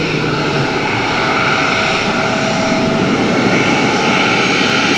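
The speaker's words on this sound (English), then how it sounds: "Didn't realise they operated that type of aircraft from here." A fixed-wing aircraft roars at Dublin Airport, its engine noise loud, close and steady, filling the whole stretch without a break and with no talk over it.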